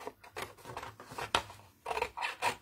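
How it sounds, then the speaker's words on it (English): Paper being cut out with scissors: a string of quiet, close snips and rasping blade strokes, somewhat irregular, with short pauses between cuts and no talking. "And then simple, you cut it out with your scissor."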